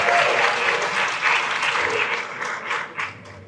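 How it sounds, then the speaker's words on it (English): A conference hall crowd at the Kenya Model United Nations annual conference applauds for several seconds, a dense, loud wash of clapping that thins toward the end. "so if you could give her a hand clap."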